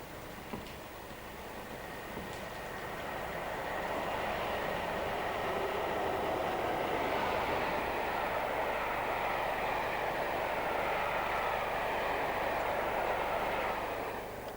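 A Class 90 electric locomotive hauling a mail train swells in from a distance and then rumbles past steadily and loudly with a broad roar and faint rail clatter. No voices are heard.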